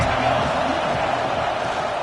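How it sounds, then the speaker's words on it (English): Stadium crowd at a football game roaring steadily and loudly, a dense sustained wash of cheering with no pauses across the short stretch. "They challenge this crowd to bring the energy, and I'd say they're doing that."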